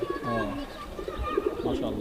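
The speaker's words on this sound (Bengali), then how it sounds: "সুলতান জেনারেশনের কবুতর এটা না হ্যাঁ।" A pigeon coos close by in soft, repeated low throaty calls, with a faint murmur of background noise.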